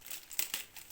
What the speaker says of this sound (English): your canvas, it comes in this plastic cover to keep the moisture off